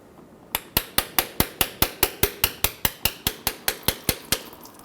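Sharp metallic hammer-like taps strike a tool into a 2000-2007 Ford Focus transmission pan, about sixteen evenly spaced loud blows in a steady rhythm, close and clear with no talking.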